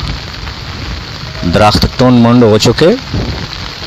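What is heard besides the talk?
rain falling outdoors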